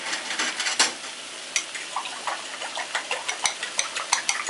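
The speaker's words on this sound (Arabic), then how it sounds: "شايفين مجرد بس ان انا بخلطه" Korean fried rice stirred in a pan with a utensil, a run of sharp scraping clicks and taps against the metal with a faint sizzle underneath, close and uneven.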